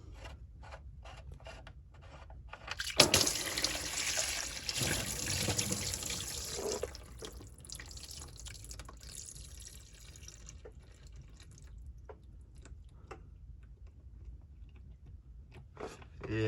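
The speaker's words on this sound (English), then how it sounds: "Gonna go ahead now and pull the oil plug off, drain the oil out, see how it looks." Engine oil from a Subaru STI pours out of the drain plug opening as a sudden loud rushing splash that stays steady, then thins to a quieter trickle with drips near the end. Light talk is faintly audible.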